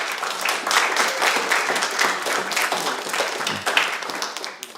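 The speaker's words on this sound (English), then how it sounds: "Can we give them a big round of applause?" A church congregation at a Sunday service applauds: dense, steady clapping from many hands that fills the whole stretch, loud and sustained, with a few scattered voices underneath.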